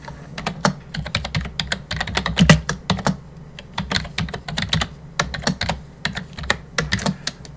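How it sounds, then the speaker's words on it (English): Rapid, uneven clatter of keys on a computer keyboard while code is written on a Raspberry Pi, close and crisp, with bursts of quick strokes and short pauses throughout. "So we'll just start typing and see what happens."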